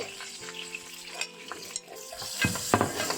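Onions fry in butter in a pan while being stirred, a soft sizzle with scattered scrapes and clinks of a utensil against the pan, growing busier toward the end.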